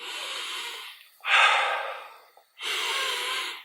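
Slow, deep breaths taken while sitting in bed after waking: a long inhale, a strong exhale and another long breath, close to the mic and airy, with no talking.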